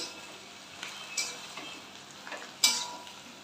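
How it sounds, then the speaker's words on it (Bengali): Fish roe curry is stirred in a frying pan: a few sharp utensil scrapes and clicks, spaced irregularly and one louder near the end, over a faint background sizzle. "আবার এটাকে নেড়ে ছেড়ে নেব"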